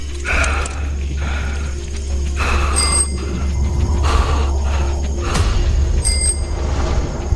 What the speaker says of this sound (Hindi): साइकिल की घंटी और सांसों की आवाज सुनाई देने लगी।